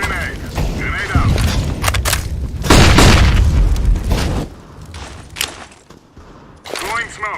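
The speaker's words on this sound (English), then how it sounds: "Throwing a grenade. Grenade out." Grenades detonate in Counter-Strike: Global Offensive as loud, booming blasts, one big thump in the middle followed by further bursts and gunfire clatter, with a player's voice calling out between the explosions.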